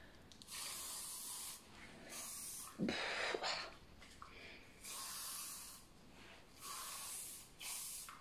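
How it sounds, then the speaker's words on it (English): Nivea Diamond Gloss hairspray is sprayed onto curled hair in a series of short, close hissing bursts, about six puffs separated by brief pauses, with one harsher burst midway. "I'm gonna use like a hairspray for the holding the curls. This is the Nivea Diamond Gloss."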